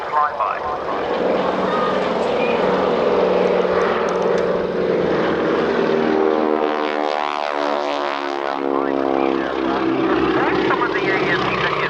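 Propeller aircraft flying past in echelon formation at the Ulster Airshow in Newtownards, 2007: a loud, sustained drone of engines and props with a slowly sweeping pitch as the formation passes overhead, steady for the whole stretch.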